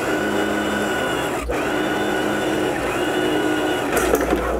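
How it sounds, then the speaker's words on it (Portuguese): A sewing machine runs steadily and loudly while stitching the underside seam of a blouse sleeve, a continuous mechanical whirring hum with a brief dip partway through. "Lembrando de começar a costura pela união da manga na parte de baixo."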